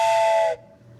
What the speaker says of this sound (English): Hear that? Train whistle.